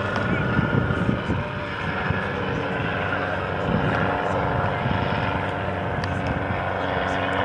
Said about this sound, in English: displaying the Schweitzer 300 for you. Dragging that helicopter sideways now.